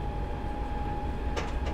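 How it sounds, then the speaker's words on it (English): Wheels of a ČD Class 843 railcar running along the track in a train simulator, a steady rolling rumble with a faint tonal hum and a couple of brief clicks near the end, no engine noise evident. "You really do hear just the running sounds."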